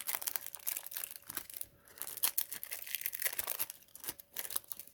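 Plastic wrapper being torn and crinkled open on a Yu-Gi-Oh! Duel Devastator box, a steady run of close, crisp rips and crackles with no talking.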